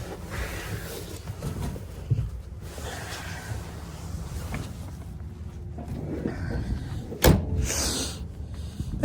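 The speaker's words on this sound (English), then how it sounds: "And doors open and close nicely" Doors of a 1976 Chevrolet Blazer K5 Cheyenne 4x4 being opened and shut, with a few soft clunks and one sharper slam near the end over a steady outdoor background.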